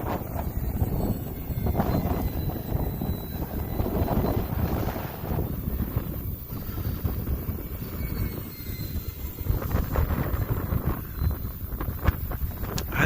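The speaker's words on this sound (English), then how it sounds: "I'd say the wind is probably in the 15 mile an hour range right now. It's pretty strong wind" Strong wind of about 15 mph blows across an outdoor model-airplane flying field, producing loud, gusty rumbling buffets on the microphone that persist for the whole stretch, with a faint engine drone beneath.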